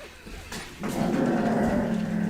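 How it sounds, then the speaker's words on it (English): A dog growls, starting with a brief low grumble and then breaking into a loud, sustained, rumbling growl close by, with no talking. "Oh, you silly dog."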